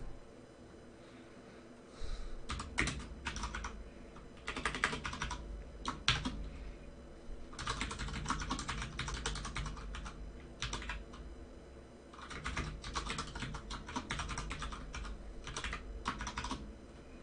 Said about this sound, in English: My typing is awful.